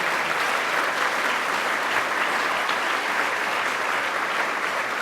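Steady, dense applause from a large audience at a Western New York budget event honoring Mayor Byron Brown, sustained and even throughout with no pauses.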